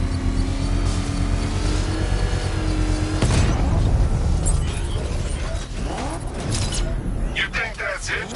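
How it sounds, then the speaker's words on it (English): A controlled bomb explosion in Batman: Arkham Knight, set off with a power winch: a loud booming blast at about three seconds swells over dense game rumble and music, then breaks into scattered debris and crackling bursts. "I can use the power winch to trigger a controlled explosion."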